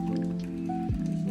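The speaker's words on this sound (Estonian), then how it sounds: "valame nüüd ümber nende vormide vee ja vee" Water poured from a kettle or jug into a baking dish around crème brûlée molds before they go into the oven, a soft steady trickle with a brief splash near the end, close and quiet.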